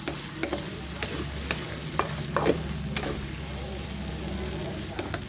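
Tofu sizzles steadily in a hot pan for tofu sisig, with occasional scraping clicks of a utensil stirring, close and moderately loud.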